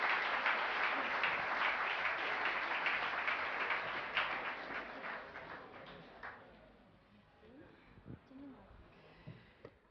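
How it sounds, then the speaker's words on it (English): An audience at the AEHT 2015 opening ceremony applauds in a dense, sustained wash of clapping that gradually thins and fades. Scattered murmurs and voices follow as it dies away. "Big round of applause for her."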